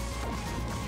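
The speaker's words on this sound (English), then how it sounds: "Oh, glass is broken." Glass shatters in the video game Project M, a brief, loud crash filling the whole short moment with no voices.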